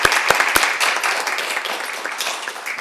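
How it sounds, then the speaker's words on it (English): Audience at a city council meeting breaking into a round of applause, opened by a few sharp close claps and then a steady, fairly loud patter of many hands. "I'm going to give you a round of applause."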